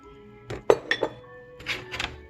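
Sugar being stirred into warm milk in a bowl, with a few light clinks and scrapes of a utensil against the bowl, soft and close, in short bursts with pauses between.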